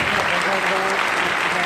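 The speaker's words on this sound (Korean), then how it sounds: "박수로 맞아주십시오." Audience at a public event in Busan clapping to welcome an arriving guest, a brief, full burst of applause throughout.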